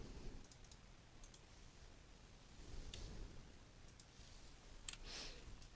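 Software mouse clicks, several faint light ticks scattered over a low background hiss, soft and close with no speech.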